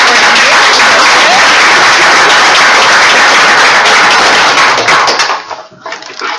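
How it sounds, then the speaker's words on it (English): Applause fills a city council chamber, a dense sustained clapping from the assembled audience that holds steady before tapering off into scattered claps near the end. "A little applause"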